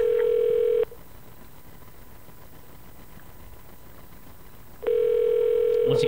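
A telephone ringing through an earpiece: two long buzzing rings separated by about four seconds of quiet line hiss.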